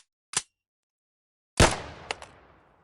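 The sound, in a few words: gunshot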